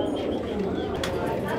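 Pigeons cooing at a crowded pigeon market in Peshawar, a low continuous cooing bed under market din, with a brief brighter burst near the end.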